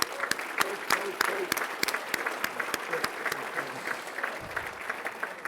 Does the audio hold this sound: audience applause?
yes